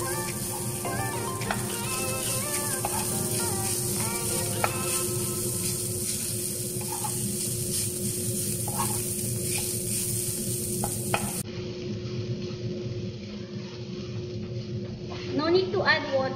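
Shredded potato sautés with translucent onions in a pan, giving a steady, close sizzle and frying hiss with a stirring scrape now and then, while someone talks over the cooking throughout.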